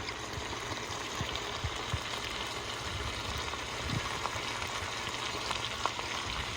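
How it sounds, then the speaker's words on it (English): Dry red wine poured into a hot pan after tomato paste, with braised short ribs, gives a steady, soft sizzle and bubbling hiss. The sound is constant and moderately quiet, with occasional faint scrapes. "we're going to deglaze the pan with 1 cup of a dry red wine"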